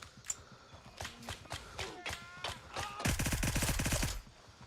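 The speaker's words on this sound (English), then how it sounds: "That was definitely a mag dump of death moment." Automatic rifle fire in Gray Zone Warfare, scattered single shots followed by a rapid sustained burst emptying the magazine, fairly distant and faint, with a voice heard briefly.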